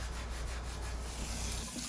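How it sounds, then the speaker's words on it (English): Sandpaper rubs across a reclaimed wooden cutting board in a continuous, faint scratchy hiss with slight back-and-forth swells, no voices. "Then it was time to sand everything down."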